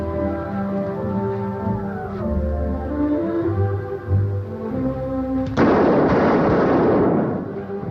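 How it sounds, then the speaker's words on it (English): Fireworks in a 1950 film go off over orchestral music with a few low booms, then a loud, dense crackling burst that holds for about two seconds and fades. "Fireworks and everything."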